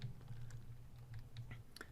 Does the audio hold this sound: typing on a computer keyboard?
yes